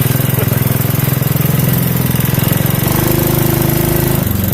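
A Craftsman 5.0 riding lawn mower engine drives steadily under throttle, a loud, close, continuous rumbling drone with a fast regular pulse that shifts slightly in pitch partway through.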